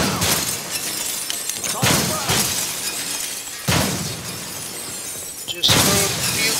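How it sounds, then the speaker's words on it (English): Window glass shattering in the video game America's Army Proving Grounds, several loud breaking crashes spaced a second or two apart amid gunfire and game noise. "So let's break a few windows here."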